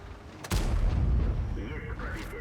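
T-10 tank cannon fire in World of Tanks, a single sudden heavy boom with a long rumbling tail, followed by fainter whistling effects.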